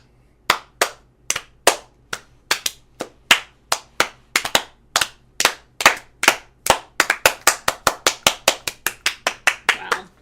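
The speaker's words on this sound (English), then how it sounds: "Slow clap." A single person's slow clap, roughly thirty sharp, close hand claps, evenly spaced at first and gradually speeding up toward the end, with no talking over them.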